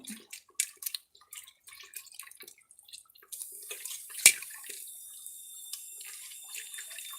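A pot of okra tamarind gravy (vendakkai puli kuzhambu) bubbles on the stove, soft scattered pops and sputters at first, then a steadier faint hiss with one sharp click.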